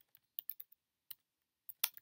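Typing on a computer keyboard, a sparse run of crisp close key clicks in irregular bursts separated by silence, quiet and without talk.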